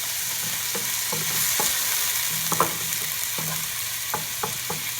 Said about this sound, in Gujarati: આપણા લસણ અને મરચાં થઈ ગયા છે, આપણે એમાં ટમેટાં નાખી દઈશું. ગેસ ધીરો રાખશું.